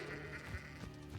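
Sheep bleating in the Hogwarts Legacy video game, a short close bleat over a steady backdrop of game music and ambience.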